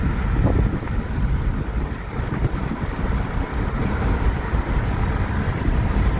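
Waves churn and wash along a beach, a steady broadband rush of water mixed with gusty wind buffeting the microphone, loud and continuous with no voices.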